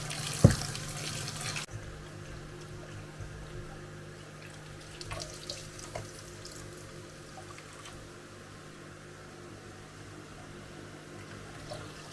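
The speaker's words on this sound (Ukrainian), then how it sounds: "ми їх промиємо від солі і потім відіжмемо добре" Tap water runs steadily into a kitchen sink while salted eggplant pieces are rinsed, a continuous close splashing hiss with a few clinks and knocks, and nobody speaking.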